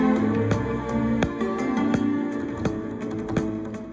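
A looped Bollywood record sample plays from an MPC One: warm, pitched-down music punctuated by regular sharp percussive hits, repeating steadily at moderate volume with no talking.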